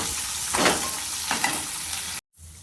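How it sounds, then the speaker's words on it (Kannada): Chopped onions frying in hot oil in a pan for chutney, a steady close sizzle with a couple of stirring scrapes, then a brief cut to near silence at the end. "ಈರುಳ್ಳಿನ ನೋಡಿ ಹಾಕಬೇಕು ಚೆನ್ನಾಗಿ ಫ್ರೈ ಮಾಡೋಣ"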